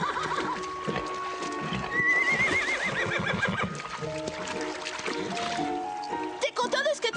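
A horse neighs in a drawn-out whinny with wavering pitch. Hoof clip-clops and a brief second whinny follow near the end, and a voice calls out over the animal.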